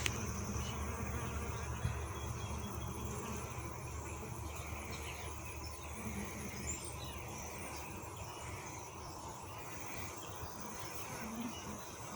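Honeybees at a starter hive buzz in a steady, dense drone, a continuous close hum of many insects with no break across the whole stretch.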